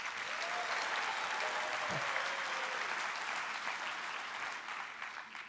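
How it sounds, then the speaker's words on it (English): Steady, dense applause from a large keynote audience at a tech conference, continuous and even throughout with no one speaking. "Let's give Snorre a big round of applause"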